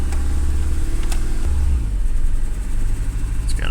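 A car engine with a crispy, damaged wiring harness and a flashing check engine light, idling steadily with a low, slightly uneven hum and a brief change in pitch as the revs shift.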